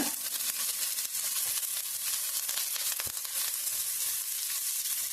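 Curry leaves frying in hot oil in a pan for a Kerala-style onion chutney give a loud, continuous hissing sizzle with small pops and crackles throughout, close up and steady, with no voices.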